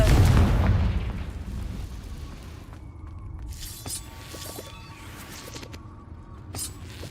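A Confringo blasting spell from Hogwarts Legacy bursts with a loud booming crack at the start, then fades into a rumbling tail with faint crackles and small pops afterward.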